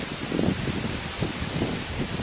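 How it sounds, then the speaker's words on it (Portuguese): Wind before a storm in Bahia rushes steadily as a dense, close roar with gusty swells and microphone buffeting, and no voices. "agora o vento vem com mais força, a tempestade está chegando"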